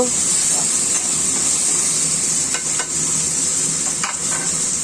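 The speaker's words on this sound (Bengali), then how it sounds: "পাঁচফোড়ন দিয়ে দিচ্ছি একটা টমেটো দিয়েছি কয়েকটা কাঁচামরিচ আছে এগুলো ভেজে নেব" Panch phoron spices, a tomato and green chillies frying in hot oil in a pan, a steady loud sizzle and hiss running throughout with a few faint clicks of stirring, no talking.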